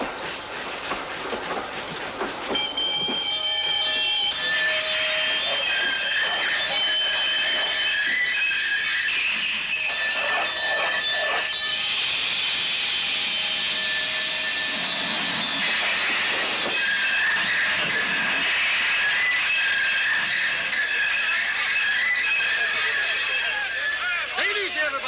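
A passenger train rolls steadily along the rails for the whole stretch, loud and continuous, with rumbling wheels and high metallic squeals and whistle-like tones riding over the rail noise, while voices talk at points.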